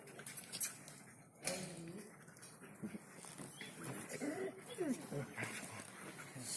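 Several dogs playing together, with yips, whimpers and scuffling bursts at close range, while people talk over much of the activity.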